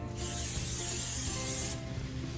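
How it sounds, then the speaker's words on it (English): A steady hissing spray of cooking spray onto a baking pan, close and moderately loud, running for about a second and a half before stopping, with faint mechanical background hum. "I'm just going to spray down our pan"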